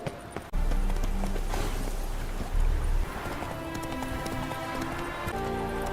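Roach the horse gallops at a steady clip-clop in The Witcher 3, the hoofbeats loud and close at first, then carrying on under a swelling musical score.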